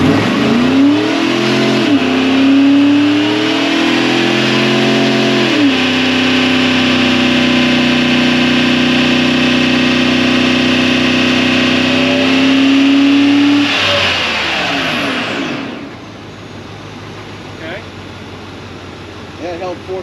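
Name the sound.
Chevrolet Suburban engine revving on dyno, 4-inch catback exhaust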